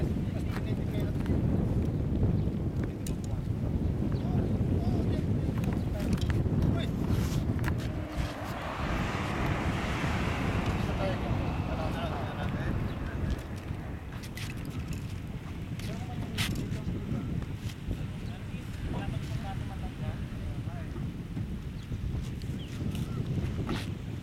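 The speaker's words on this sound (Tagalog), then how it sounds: "Mahangin" Strong wind buffets the microphone at Jizan beach, a continuous loud roar and rumble with gusting swells that lasts throughout, while a voice speaks faintly beneath it.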